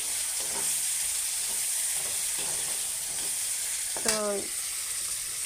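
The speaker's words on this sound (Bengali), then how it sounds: "টমেটো এখন এমনভাবে ভাজবো" Tomatoes and spices frying in a pan over lowered gas heat make a steady, moderate sizzle with light scraping and stirring, under a brief word of speech.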